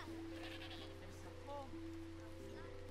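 In the Dawn of Man video game, a goat bleats faintly while being milked: a few short, wavering cries over a steady low hum and a sustained tone.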